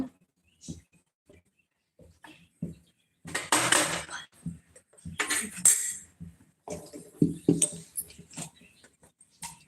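A cooking pot is set down on a lit gas stove in a home kitchen before ghee goes in, giving scattered close clanks, scrapes and knocks of metal in uneven bursts.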